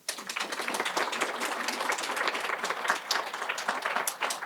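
A conference audience gives dense, close-sounding applause that starts abruptly and holds steady throughout, with no talking.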